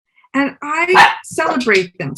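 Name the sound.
dog barking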